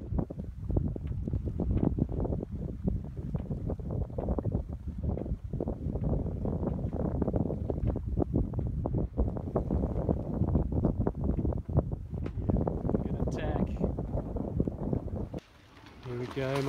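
Wind gust striking a single-handed sailboat near Lefkas, Greece: a steady, close rush of wind buffeting the microphone with boat and water noise underneath, easing briefly near the end.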